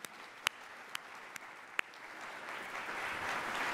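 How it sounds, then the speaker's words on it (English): An audience at a Columbus Metropolitan Club forum breaks into applause, beginning with a few isolated claps and swelling into steady clapping from the crowd. "Can we give them all a round of applause?"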